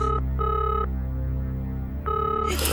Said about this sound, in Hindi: मैं फोन उठाती हूँ।